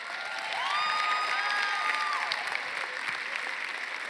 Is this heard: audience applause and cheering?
yes